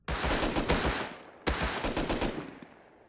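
Two bursts of rapid automatic gunfire from the video game Rust, each a loud, close volley of cracking shots that trails off with echo, separated by a short pause.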